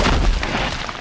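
A heavy, booming crunch as a video game boulder crushes the player, one short loud impact with a deep rumble and no voices.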